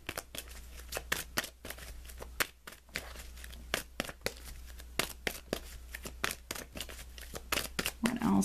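Tarot cards being shuffled in a rapid series of crisp riffling snaps and flicks, close and fairly quiet over a low background hum.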